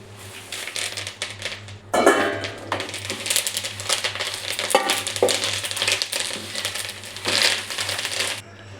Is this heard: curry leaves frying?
yes